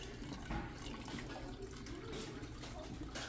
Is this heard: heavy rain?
no